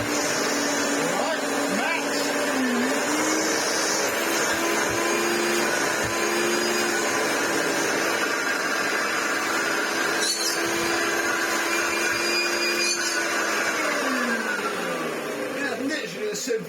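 A Hoover Turbopower Plus Autoflex U2604 upright vacuum cleaner running in hose tool mode with weak suction, a loud steady close whine holding constant before winding down near the end.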